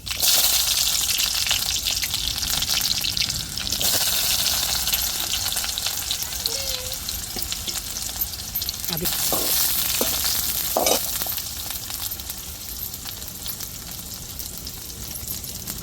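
Onions hit hot oil in a pan for fish curry, giving a loud, bright sizzle that starts strong and slowly eases off, with a few faint clinks of stirring and no talking.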